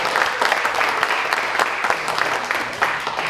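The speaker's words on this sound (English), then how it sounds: "how about a little applause for Dick?" Applause from the audience at a museum learning center speaker series, a steady patter of many hands clapping for the host, moderately loud and continuous with faint voices mixed in.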